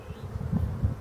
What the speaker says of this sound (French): On voit que les abeilles sont déjà au travail.